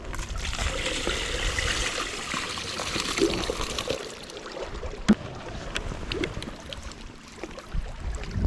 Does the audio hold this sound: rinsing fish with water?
yes